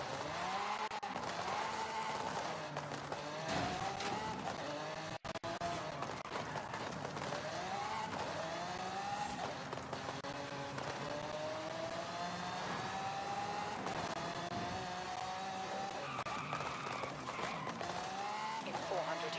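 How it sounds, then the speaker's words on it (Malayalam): A modified Lamborghini Urus in Forza Horizon 5 keeps up a continuous engine drone, its pitch rising and falling through the gears as it accelerates, with some tire squeal and someone talking over it throughout. "എക്സോസ്റ്റ് വഴി പോയായിരുന്നു, സൗണ്ട് മാത്രമേ ഉള്ളൂ, ഫ്ലെയിം ഒന്നും വരുന്നില്ല"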